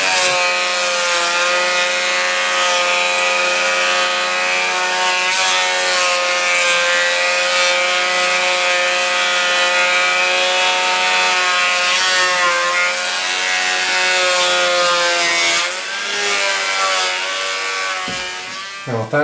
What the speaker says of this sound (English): I'm going to spend a few minutes with the wire brush